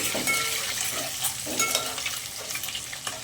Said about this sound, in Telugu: రెడ్గా అయితే ఫ్రై అయితే చేసుకోవాలా గుడ్లని.